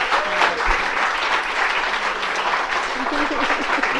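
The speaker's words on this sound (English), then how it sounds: "please stand up and show him your love and appreciation through your applause" An audience at a Starfish Award ceremony gives a standing round of applause for Dr. Paul, a steady, dense wash of clapping that holds at an even level for a few seconds.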